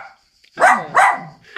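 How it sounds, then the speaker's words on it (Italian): A dog barks twice in quick succession, close and loud, with a short pause between barks and quiet before and after. "Il cane che abbaia,"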